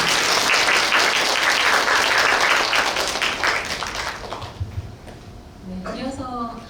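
Audience applause at a graduation ceremony fills a large hall, dense and loud for about four seconds, then fades into quieter room noise as a voice begins speaking.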